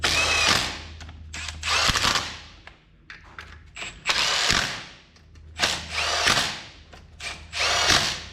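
Power tool whirs in repeated short bursts while removing the freewheeling hub bolts on a 2012+ Isuzu Dmax, with ratcheting and metallic clicks between runs, loud and close.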